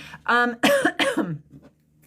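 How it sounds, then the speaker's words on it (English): Several harsh coughs in quick succession, close and loud, with a throat-clearing edge, then fading to quiet. "It's interesting that I'm coughing."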